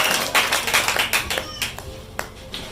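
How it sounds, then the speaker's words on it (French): A church congregation claps and applauds for Jesus during a French-language sermon, a dense patter of many hands near and loud, thinning out into scattered claps at the end. "Acclame encore pour Jésus."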